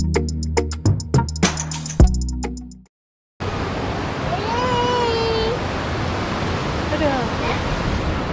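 Rushing river water of the Ciherang River at a campsite in Cidahu, a steady broadband flow that starts after a brief silence, with faint whistling sounds drifting over it.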